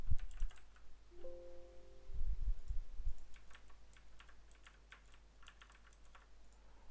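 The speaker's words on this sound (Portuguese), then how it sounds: "Utilizando um teclado mecânico, vão ouvir algo como isto." Mechanical keyboard typing picked up through a Trust GXT 433 Pylo headset microphone, bursts of crisp rapid key clicks, close and clear against low background noise, with a few thumps and a brief tone early on.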